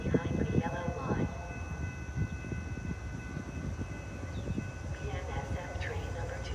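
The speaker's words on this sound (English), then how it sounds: "PNSF train number 2008 to Chicago Union Station is now arriving." A Metra BNSF express commuter train arrives at the Downers Grove Main Street station, bound for Chicago Union Station. A steady, broad rumble with faint tonal hums runs throughout, and a voice speaks over it.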